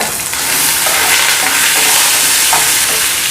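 Curry leaves and urad dal fry in hot oil for mint rice, a loud, steady sizzle that runs without a break, with faint crackles and pops scattered through it. There is no talking.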